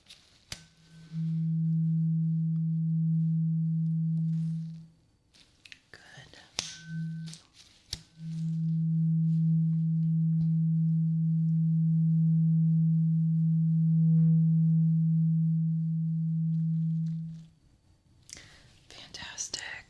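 A steady low pure hearing-test tone sounds for several seconds, stops briefly, then resumes and holds before cutting off, with faint rustling around it.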